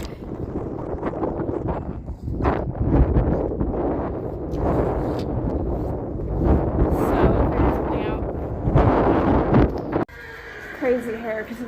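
Gusty outdoor wind buffets the microphone at a horse turnout, a steady roar under a person talking, with horses whinnying and hooves clip-clopping nearby.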